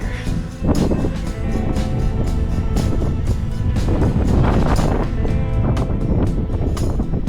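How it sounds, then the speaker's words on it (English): Loud, continuous wind buffeting and rushing past, with some clattering and water-like churning underneath, as on a moving boat on Lake Havasu. "A little windy, but sun feels nice."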